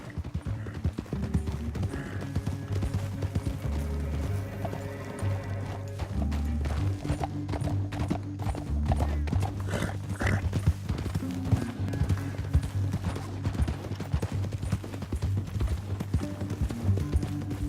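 Horses galloping in Red Dead Redemption 2, a steady stream of rapid hoofbeats, close and continuous under a droning music score, with occasional brief speech.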